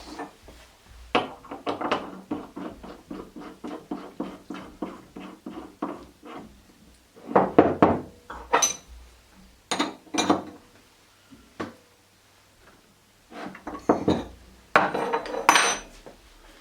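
Metal parts of a massive tool base for a Multifix A toolpost on an Emco Compact 8 lathe being screwed together, giving bursts of close metallic clinks, rattles and ratcheting taps separated by short pauses.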